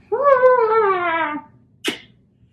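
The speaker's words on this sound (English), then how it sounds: "This cat, I love her, but she's just like so energetic right now" A pet cat gives one long, clear meow close by, followed after a short pause by a brief sneeze-like snort, with no one talking.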